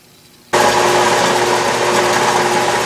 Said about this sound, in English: I'm using power feed, and I find that I get a little bit better finish feeding in toward the center of the lathe